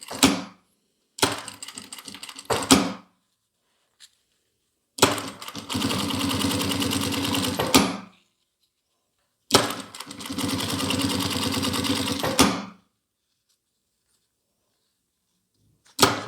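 A sewing machine stitches a zipper into a case in three bursts. A short burst comes first, then two longer steady runs of stitching, with quiet pauses between them and no talking.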